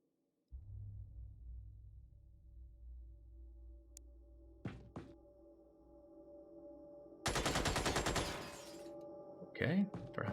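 Gunfire aimed at a door in the Xenonauts strategy game, with a few sharp isolated reports early on, then a dense loud burst of automatic fire lasting over a second, followed by another short crack.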